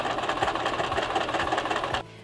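A sewing machine stitches a fabric seam for embellished shorts, its steady rapid motor chatter running close and even for about two seconds before it cuts off abruptly into quiet.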